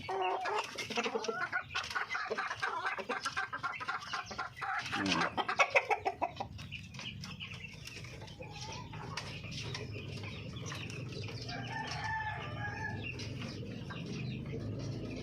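Native darag chickens cluck while being fed fruit and vegetables, with a burst of rapid, louder clucking partway through before softer, scattered clucks continue over a low background.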